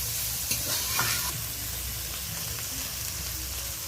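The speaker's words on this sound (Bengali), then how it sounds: "এবার চিংড়ি মাছ, পেঁয়াজ, কাঁচা লঙ্কা বেশ সুন্দর করে ভাজা ভাজা করে নেব" Prawns, onion and green chilli stir-fry in a little oil in a pan, a constant close sizzle broken by a few scraping stirs early on, with no one talking.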